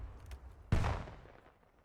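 A single sharp shotgun blast fired through a wall in a first-person shooter esports match, a sudden close boom that decays over about a second, preceded by faint background noise.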